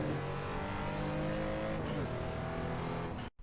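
A car engine revs sharply on each heel-toe downshift during track driving, loud and close, holding a strained high pitch that dips and climbs as the gear drops, then cuts off abruptly at the end.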